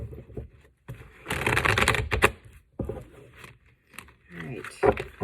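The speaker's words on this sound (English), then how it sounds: "I need to pull a final card to close out the reading" Angel Tarot cards being shuffled and drawn, several bursts of riffling and flicking close by, mixed with a person talking.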